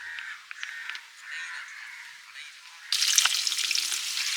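Fish frying in a pan gives a soft crackle that swells into a loud, bright sizzle partway through, with birds calling faintly in the background at a village beach house.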